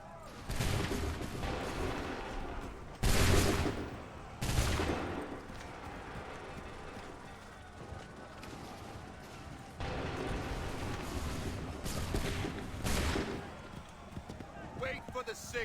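Volleys of gunfire on command in a video game ring out as several loud, sharp bursts spaced through the scene, with hooves clopping and voices talking in between.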